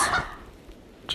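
A chicken gives a couple of short clucks, a loud one at the start and a brief one at the end, with quiet moments in between.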